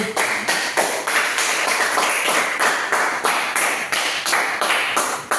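Classroom applause during a maths lesson on quadratic functions, a steady, close round of many hands clapping with a regular, pulsing rhythm that continues without a break.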